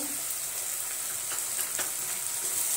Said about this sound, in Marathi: टोमॅटो आपण मऊ होईपर्यंत 1-2 मिनिटं आपण चांगला परतून घेणार आहोत।